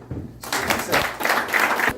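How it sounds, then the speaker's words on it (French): Diners at an annual dinner applaud themselves, a burst of many hands clapping that starts abruptly and holds steady, fairly loud and close. "On peut s'applaudir."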